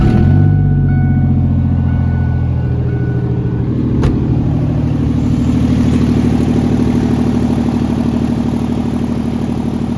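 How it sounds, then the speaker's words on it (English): A Ford truck engine cold starting after a motor swap, settling into a loud, steady idle with dense low rumble and a brief sharp transient partway through, no voices present. "Cold start if it starts."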